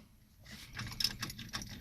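Car keys jangle and clink in a 1973 Dodge Charger with a big-block Mopar engine, a close, bright metallic rattle of several quick shakes lasting under two seconds.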